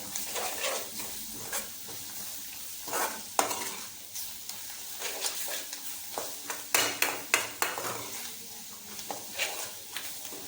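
Ingredients for Maggi noodles frying in a pan, with a soft continuous sizzle under repeated scraping strokes of a spoon stirring the mix, growing into a run of sharper clinks and scrapes.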